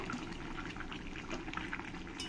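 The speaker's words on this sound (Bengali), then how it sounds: "আমার চিকেনের ঝোলটা অনেকটাই শুকিয়ে এসছে এবার আমি দিয়ে দেবো এর মধ্যে ক্যাপসিকাম" Chicken kosha with chopped capsicum simmers and bubbles in a pan, a steady close sizzle with soft popping that runs without a break.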